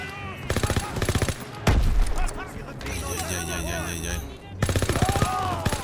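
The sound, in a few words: gunfire from a video game weapon until empty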